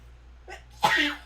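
A single sharp sneeze with a quick indrawn breath before it, loud and close, over a faint steady background hum.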